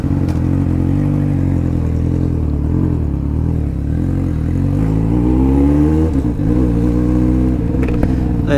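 A motorcycle ridden by a motoboy carrying a passenger, its engine droning loud and steady throughout with some shifts in pitch as it accelerates, and wind rumble underneath.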